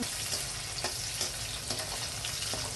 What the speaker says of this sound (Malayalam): വറ്റൽ മുളക് ചെറിയ ഉള്ളി ഇട്ട് മൂപ്പിച്ചിട്ട് നമുക്ക് ഇത് ഇളക്കി കൊടുക്കാം